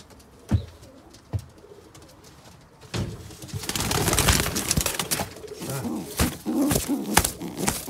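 Tippler pigeons coo in a loft, soft repeated calls growing busier after a few quiet seconds, close and moderately loud, mixed with scattered knocks and rustling.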